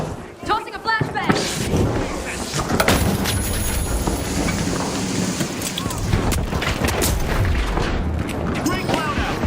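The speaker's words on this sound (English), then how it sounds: "Tossing a flashbang." Explosions and gunfire rumble through a video game firefight, with a flashbang grenade going off amid dense, continuous booming and crackling. A voice is briefly heard at the start.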